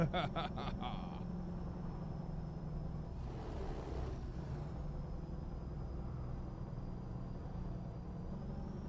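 Straight-piped HHC Sinister W-990 truck in a driving game, idling with a steady low rumble and drone, a brief hiss of air near the start and a faint whine above.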